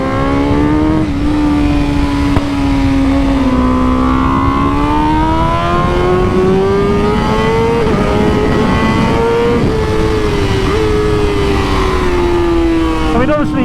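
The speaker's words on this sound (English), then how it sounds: "obviously you can hear the split throttle bodies, it sounds amazing" Superbike with split throttle bodies screaming around a track on a trackday, a loud, steady high-revving engine note that rises and falls gently with throttle changes, close and constant throughout.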